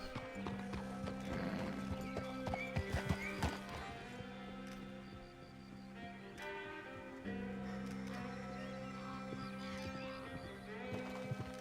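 Horse hooves clip-clop steadily in Red Dead Redemption 2, with several whinnies and neighs breaking through, set against a continuous tonal game soundscape at moderate level.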